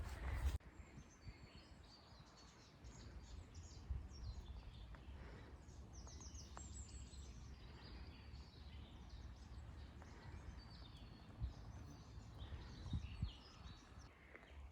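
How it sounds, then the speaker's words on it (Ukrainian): Birds sing faintly in a blossoming spring forest beside a small stream, with scattered chirps and short trills over a soft, steady outdoor hush. "Пташки взагалі класно співають."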